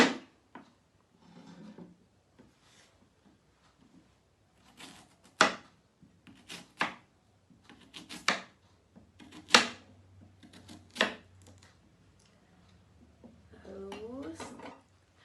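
Irregular sharp knocks and clacks of a knife chopping cucumber into small pieces on a board, with a few clinks of utensils; close and intermittent, no talking.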